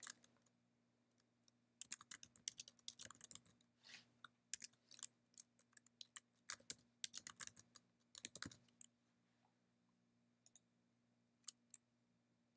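Someone types an email address on a computer keyboard, giving irregular runs of quick close key clicks separated by short pauses, faint over a quiet low hum, with no talking.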